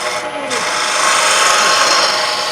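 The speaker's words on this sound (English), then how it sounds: "If I'm going to do a cove, I can do a start, come in with my spindle gouge or my bowl gouge." A spindle or bowl gouge cuts a cove into wood spinning on a lathe, giving a steady, continuous rasping scrape that stays close and fairly loud with no pauses.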